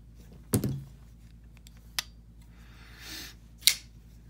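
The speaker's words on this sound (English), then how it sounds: "Need to tighten the pivot down a little." Small metal clicks and taps from tightening the pivot screw of a Kizer Toro pocketknife, a sharp click followed by a few lighter ticks and a soft scrape, close and quiet.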